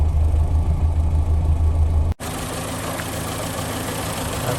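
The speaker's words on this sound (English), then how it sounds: "And then there's its little A series engine, just chuntering away." A 1968 Morris Traveller's little A-series engine idles steadily, a low, even chuntering hum up close, with a brief dropout partway before the idle carries on unchanged.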